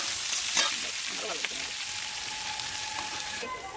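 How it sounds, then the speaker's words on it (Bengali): Mustard paste and green chilli frying in a pan, a loud, steady close-up sizzle with occasional scraping stirs and no talk. "দেখো, পেস্টটা আর লঙ্কাটা ভাজা ভাজা হয়ে গেছে"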